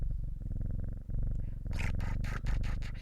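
A cat purrs in the video game Strange Horticulture, a steady low rumbling drone that runs throughout, joined midway by brighter soft crackling bursts.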